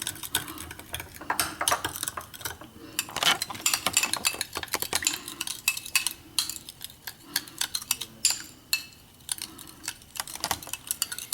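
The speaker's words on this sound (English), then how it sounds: "we're going to give this a nice mix." A utensil stirs and clinks against a bowl while mixing a potato, celery and red pepper salad with mustard, making irregular close scraping and tapping sounds.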